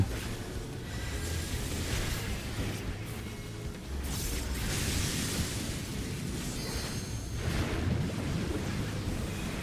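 Thunder spell effects rumble and crash continuously through a Final Fantasy XIV boss fight, loud and dense, with layered explosive bursts and a sustained roar.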